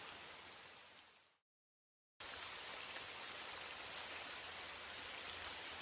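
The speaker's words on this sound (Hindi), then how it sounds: "बारिश तो और भी तेज हो गई है।" Heavy rain pours steadily in a jungle, a dense hiss of drops on surfaces that cuts out briefly to silence near the start, then returns just as loud and unbroken.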